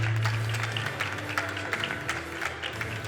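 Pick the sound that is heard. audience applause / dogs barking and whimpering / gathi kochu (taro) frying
audience applause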